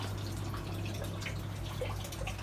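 Water trickling and dripping in a rooftop aquaponics system in Singapore, pumped from a sump tank up to a tube, a constant close wash of flow under a low pump hum.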